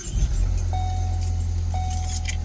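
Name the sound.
car engine starting, 6-speed manual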